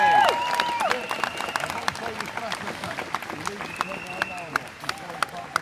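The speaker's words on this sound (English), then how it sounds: "So give yourselves a round of applause" Crowd applauding outdoors at an evening vigil in London, with scattered sharp claps and some cheering over a steady murmur of voices, fairly close and moderately loud, with talking mixed in throughout.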